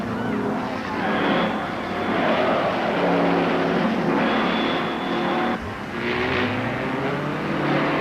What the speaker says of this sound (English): it's now a head-on race between these two cars. Both are wide open, heading for the finish line and the checkered flag.